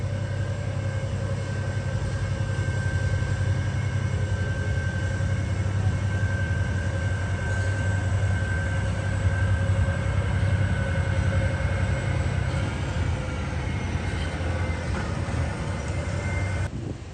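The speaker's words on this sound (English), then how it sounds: "At Zagreb Station, there were trains old and new" A steady low rumble from trains at Zagreb Station, with a constant engine drone and a faint hum, continuous and unchanging throughout, no voices.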